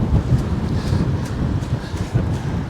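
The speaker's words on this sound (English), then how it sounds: "that wind's getting up" Steady wind gusting across a harbour during a fishing session, a continuous low rumbling roar with buffeting against the microphone and no voices.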